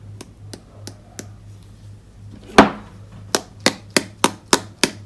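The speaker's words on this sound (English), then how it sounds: "Just hitting it with the bone folder." Sharp, close taps of a bone folder striking an aqua brush to splatter Sahara Sand paint onto a card, a few spaced knocks, one heavier hit, then a quicker regular series of clicks.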